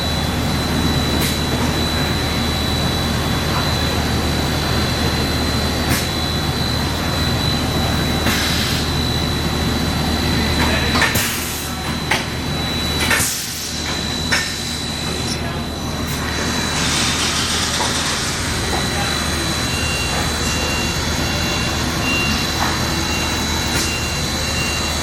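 Takumi vertical machining center running with coolant on, a steady broadband roar with a faint high whine, punctuated by a few clunks and shifts in the middle.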